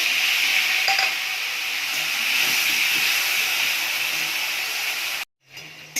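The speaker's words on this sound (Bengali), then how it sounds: "পটল ভেজেছি তো একটু তেলটা একটু কালো। আর টমেটোটা দিয়ে দিচ্ছি।" Tomato hitting hot, slightly darkened oil left from frying pointed gourd with green chilli, a loud steady sizzle and hiss running close for about five seconds before cutting off abruptly, then a brief softer return.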